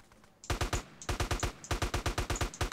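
An M4 rifle firing in GTA San Andreas, a steady rhythm of sharp, evenly spaced shots after a brief quiet start, loud and close with no talking.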